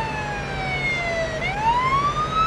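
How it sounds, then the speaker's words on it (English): A wailing ambulance siren in the video game Police Simulator: Patrol Officers sweeps down then rises again in pitch, steady and fairly loud over a low rumbling engine background. "Here comes the ambulance!"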